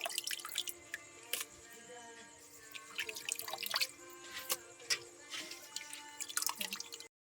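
Squid being washed in water, close up, with steady drips, splashes and wet squishing from handling, and small clinks scattered throughout, ending in a brief silence.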